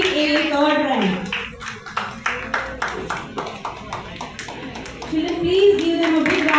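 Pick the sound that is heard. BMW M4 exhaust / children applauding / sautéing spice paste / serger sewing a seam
children applauding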